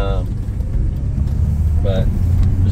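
Low, steady engine and road rumble inside a 1997 Nissan March while driving, moderately loud and continuous, with a brief voice fragment near the start and another near two seconds.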